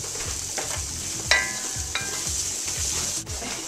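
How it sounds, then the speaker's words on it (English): Vegetables, including mushrooms, sauté in a pan for a white bolognese, with a steady loud hiss and crackle broken by a couple of sharp metallic clanks from utensils against the pan, near and without talk. "we're sauteing these vegetables down probably for until they're nice and brown"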